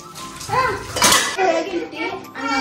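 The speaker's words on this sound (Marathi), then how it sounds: "मी भांडी घासायला लागली" Dishes and utensils clatter and clink close by during washing, while a voice talks over the noise.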